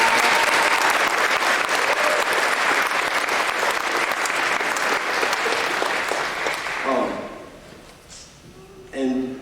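A graduation audience at a rehabilitation center applauds the therapists with sustained, loud clapping that fades after about seven seconds, followed by a voice speaking.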